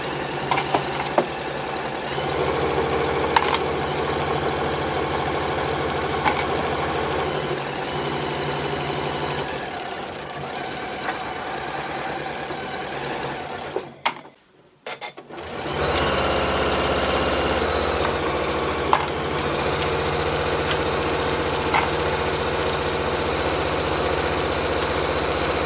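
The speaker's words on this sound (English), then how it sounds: "Put your needle back in, reverse stitch to secure, and then finish going all the way round to the top edge." A sewing machine stitches a stocking, backstitching and pivoting around to the top edge; a steady mechanical hum with faint rhythmic ticks runs close by, pausing briefly midway before resuming.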